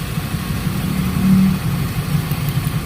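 A Toyota Corolla 2E engine runs steadily after adjustment, with a low, even idle close by and no voices.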